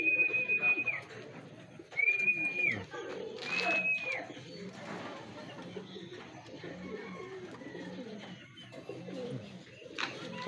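Pigeons coo repeatedly in a loft of racing birds, soft throaty calls overlapping at close range, with brief sharp chirps and shuffling; someone talks intermittently over them.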